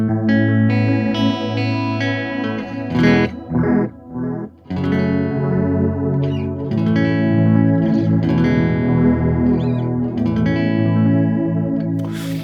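Electric guitar played through a delay pedal set to dual mode, with sustained distorted chords and notes layered with echoing repeats and a wide, chorus-like shimmer, loud and continuous with brief gaps.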